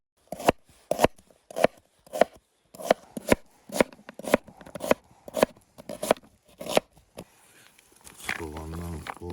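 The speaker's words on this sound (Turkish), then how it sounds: "Soğanı doğruyoruz." A knife chops onion on a board in a rhythmic run of about fifteen sharp, close taps, then stops, and a voice speaks briefly at the end.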